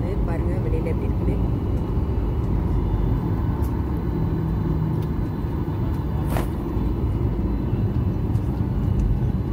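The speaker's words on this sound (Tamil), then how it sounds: "ஃப்ளைட் வந்து ஸ்டார்ட் ஆகிடுச்சு, டேக் ஆஃப் ஆக போது ரெடி ஆகிட்டு பாருங்க" Inside an airliner cabin before takeoff, a deep, steady engine rumble fills the space evenly throughout, with voices talking over the drone.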